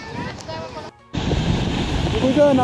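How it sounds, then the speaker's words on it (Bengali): Strong ocean surf rolls in at Oceana Beach in Digha, a loud, roaring wash with gusting wind noise on the microphone, a voice over it and a brief cut-out partway through. "খুব সুন্দর ঢেউ হচ্ছে এখানে।"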